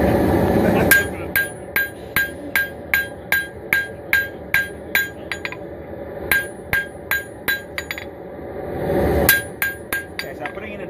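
A hand hammer strikes a hot dagger blade on an anvil, drawing out a distal taper: crisp, ringing blows in an even rhythm, about two per second, in two long runs separated by a brief pause.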